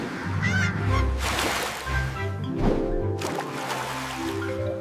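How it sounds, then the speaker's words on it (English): Harlequin duck calling in a loud run of nasal, honking squeals and harsh notes lasting a few seconds, close and steady with no talking over it. "H is for harlequin duck."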